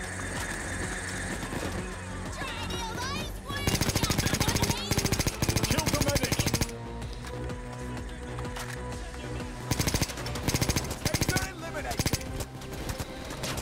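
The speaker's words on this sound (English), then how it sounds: "Get away from me, fucking drill." Heist drill whirring in the video game Payday 2 during a loud robbery, a harsh mechanical grinding that comes in bursts amid gunfire and game noise, with a player talking over it.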